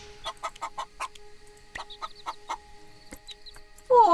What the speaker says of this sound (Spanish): ¿Estas son las gallinas?